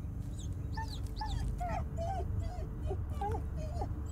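A dog whimpers in the Blair Witch video game, a string of high, thin whines and yips repeating over a low background hum.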